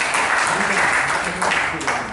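An audience in Miraflores, Peru, applauds in a short, dense burst of clapping that sounds fairly close and loud, with some murmuring mixed in.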